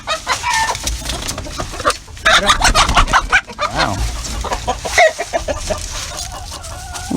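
Chickens cluck and squawk loudly nearby as two roosters chase a hen, with flurries of agitated calls and wingbeats, and a person briefly exclaims over the commotion.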